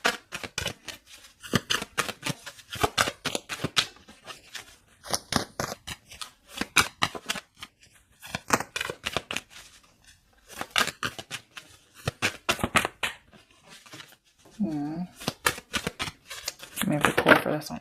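Tarot cards being shuffled and pulled from a deck, sharp papery riffles and flicks repeating in quick bursts throughout, close and fairly loud, with a person talking between the bursts.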